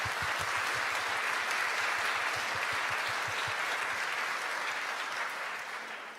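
Sustained applause from a conference audience fills the room, dense and steady with a few sharper claps early on, then slowly thinning toward the end.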